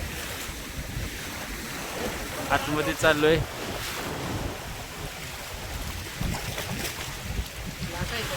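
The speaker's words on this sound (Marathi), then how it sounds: "आणि या समुद्राच्या लाटांबरोबर ही आमची हलणारी होडी आणि गारवा आहे हवेमध्ये." Sea waves wash around a small rocking boat travelling among the Nivati rocks off Sindhudurg. A steady surf and wind wash continues throughout, while a person speaks briefly over it.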